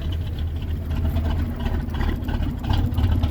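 A cold 1981 Ford Mustang engine idles steadily in the snow, a close, loud, continuous low rumble with a slightly uneven pulse and no voices.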